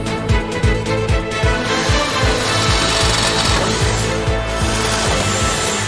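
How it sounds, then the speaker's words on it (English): Steady, grinding machine noise with rapid rhythmic thumping pulses throughout, loud and close, as a drill bores mounting holes in parts, no voices. "we first need to drill all the mounting holes"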